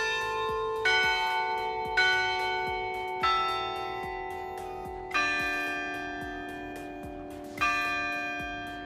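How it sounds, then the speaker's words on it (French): A bell rung repeatedly in a student residence in Uppsala, Sweden, five or six clear struck tones at uneven intervals, each ringing out and decaying over a sustained hum. "Qui font de la musique avec la cloche."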